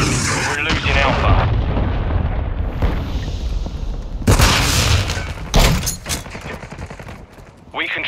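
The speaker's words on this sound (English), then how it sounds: "Friendly cruise missile approaching target." Explosions and gunfire in Call of Duty Modern Warfare 2 Domination on Shoot House, loud overlapping booms and rapid shots with a friendly cruise missile strike, game announcer voice over the battle.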